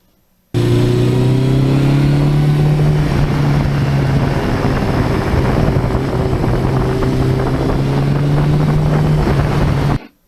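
Steady, close engine drone from a 38-year-old Suzuki GS1100E motorcycle, loud and even with slight pitch shifts while riding, and no talking over it.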